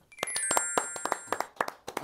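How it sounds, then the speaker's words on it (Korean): A small group clapping in a Korean broadcast studio, a few sparse, uneven hand claps close by with brief gaps, ringing slightly in the room. "박수 한번 칠까요?"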